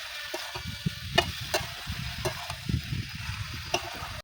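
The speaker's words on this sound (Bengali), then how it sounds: "ভালো করে নাড়াচাড়া করে নেবো।" Curry spices with salt and turmeric stirred in a frying pan for an ilish fish-head and Malabar spinach curry, with a soft low sizzle and repeated scraping strokes of the spoon, close and steady.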